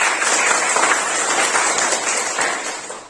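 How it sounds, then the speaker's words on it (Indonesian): A group of students applauds in a dance classroom, with dense, fast clapping that stays strong throughout and fades slightly at the end. "Tepuk tangan dulu untuk kalian semua"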